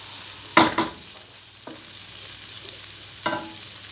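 Onion, garlic, bell pepper and zucchini cook in a pan with a soft steady sizzle, broken by a few louder scraping stirs of a utensil near the start and again toward the end.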